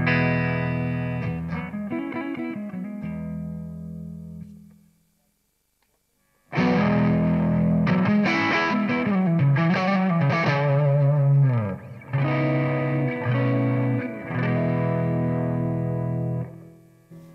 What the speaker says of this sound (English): I have two presets with the Univibe now, so you can see the different ways you can control it.